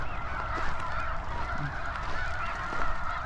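Wild geese honking at a bird refuge, a steady chorus of overlapping calls with a few louder nearby honks and a constant outdoor murmur beneath, no talking.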